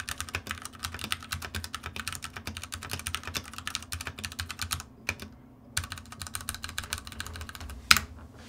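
Fast typing on a Ducky One 2 Mini mechanical keyboard fitted with Cherry MX Red switches, a rapid, even clatter of close keystrokes with two brief pauses and one sharper clack near the end.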